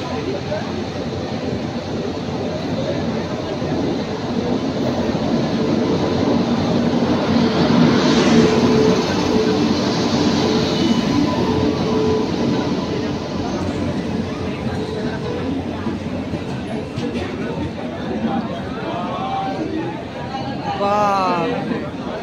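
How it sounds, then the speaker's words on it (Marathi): The Danapur Express pulls into a crowded station platform with a steady rumble and squeal of wheels, while a dense hubbub of passengers chatters throughout and a loud voice carries over the din. "ट्रेन आली बघा,"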